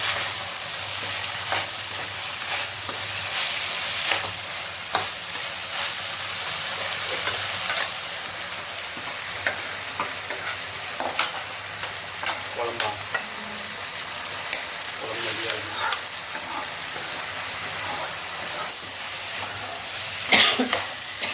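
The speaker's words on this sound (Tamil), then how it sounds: "காய் நல்லா வதங்கிட்டாங்க." Beetroot sautés in a pan with a constant sizzling hiss, punctuated throughout by repeated scraping and clacking stirs, and a cough briefly heard near the cook.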